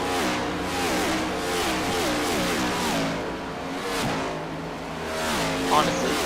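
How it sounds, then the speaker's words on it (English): NASCAR Gen 7 stock cars race by at speed in the Southern 500, their loud engine notes overlapping and shifting pitch through downshifts and acceleration in a continuous roar. "I think it's a really, really good sound in these Gen 7 cars"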